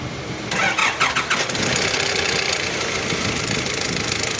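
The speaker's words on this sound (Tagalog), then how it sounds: "Ayan po yung engine. Papa-start ko po at para alam natin kung ano ang gagawin at papalitan." A Nissan Urvan van engine cranks and catches, then settles into a steady running note with a rapid ticking from a noisy timing chain throughout, close and loud.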